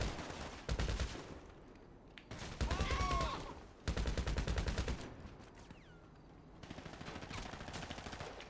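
Sustained automatic gunfire in GTA Online, loud dense bursts that stop and restart several times, broken by short quieter gaps.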